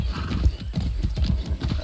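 Horse hooves clip-clop in a quick galloping rhythm while riding in Far Cry 6, with steady thudding beats at close range and a brief whinny amid the game soundscape.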